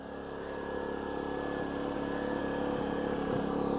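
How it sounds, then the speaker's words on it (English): An Erayak 4500P portable generator drones steadily throughout with a constant mechanical hum and a thin whine, no voices, running evenly nearby. "let's go check on the generator and see how it's running"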